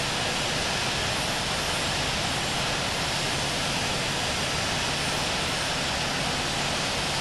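A jet airliner taxiing toward runway 10 left at São Paulo in the Infinite Flight simulator, giving a steady, loud engine whine and rumble that holds evenly throughout with no talk.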